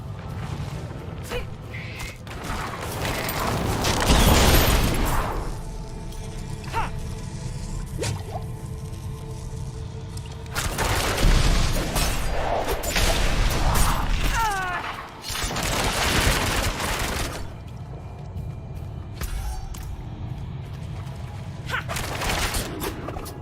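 Rapid barrage rogue skill attacks in Diablo IV, volleys of squishy, wet impacts and clattering hits, with repeated surges of heavy combat noise over a continuous game background.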